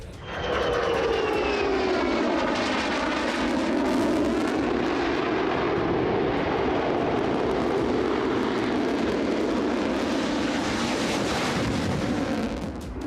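An Israeli fighter jet roars overhead in a loud, sustained sweep, its engine tone sliding downward as it passes with a broad rushing roar and no talk.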